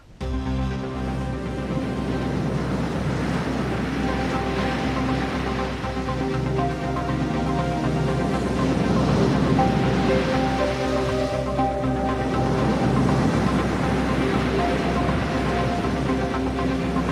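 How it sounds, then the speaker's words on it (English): Chinese Coast Guard ships fire water cannons at a Philippine boat at sea, a loud continuous rushing and hissing spray over engine drone, swelling stronger midway and holding steady without voices. "Two Chinese Coast Guard ships targeted a Philippine boat. They fired water cannons at it."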